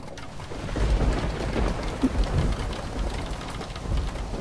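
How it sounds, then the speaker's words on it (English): Hailstorm in the space survival video game Stranded in Space Omega, set in a planet's cloudy atmosphere: a steady, dense rattling patter of hail with low rumbling underneath, loud and continuous throughout. "So there's a hailstorm."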